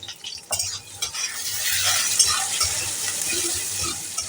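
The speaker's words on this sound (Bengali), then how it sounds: "পেঁয়াজ ভাজার সময় একটু লবণের ব্যবহার করবেন তাহলে কিন্তু পেঁয়াজ খুব তাড়াতাড়ি নরম হয়ে যায়" Sliced onions sizzle in a pan with salt while a spoon scrapes and stirs them, the frying hiss rising steadily under several sharp clinks of the utensil.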